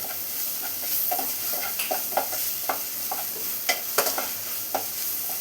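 A spiced masala with a little pepper powder is stirred and sautéed in a pan for Kerala-style chicken puttu, with a steady soft sizzle and irregular scraping strokes of the spoon, fairly close, with no talk.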